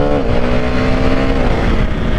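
KTM Duke 390 motorcycle downshifting with a quick shifter, the engine loud and close, its pitch stepping down as the revs fall steadily.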